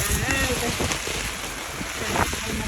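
A strong wind and rain storm on an outdoor road, with loud, steady roaring gusts buffeting the microphone and a constant wash of rain-like noise throughout.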